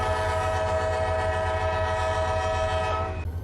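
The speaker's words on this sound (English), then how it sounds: "Sorry, I've messed up this horn sequence." A diesel train horn in the Run8 Train Simulator game, sounding one long loud sustained chord over a low engine rumble, cutting off abruptly near the end, with no speech.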